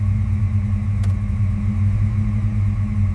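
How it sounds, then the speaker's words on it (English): The engine of a restored Simpsons-style police car idles in a garage, giving a loud, steady low rumble with an even tone and one brief click partway through. "The engine's running smooth."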